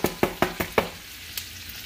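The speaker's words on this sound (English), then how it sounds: "I'm going to put all these onions. And we're going to fry" Onions drop into hot oil in five quick sizzling bursts, then settle into a faint, quiet fry.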